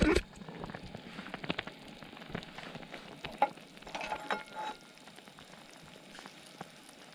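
Water boils in a pot over a campfire on an autumn night. It makes a busy crackling, bubbling sizzle with irregular pops, moderately close and fairly quiet, and no talk is heard.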